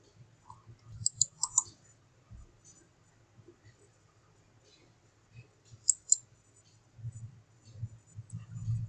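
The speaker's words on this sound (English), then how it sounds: "first I get it this side, then I right click" Computer mouse right-clicks while editing an animated Bitmoji: a few short, sharp clicks near the start and another quick pair later, close and quiet over a faint low hum.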